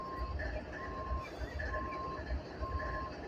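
A freight train idles at the Abbeville rail yard, with a low diesel rumble and a repeating beep sounding at steady intervals at moderate distance. Faint voices can be heard in the background.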